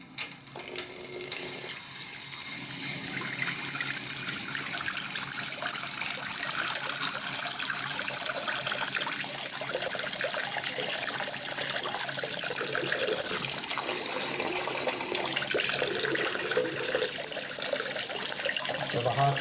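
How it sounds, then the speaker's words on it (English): Water pours steadily from a Moen single-lever bathroom basin faucet, a continuous close hiss and splash that runs unbroken for the whole stretch with faint background sounds. "Turn my water on."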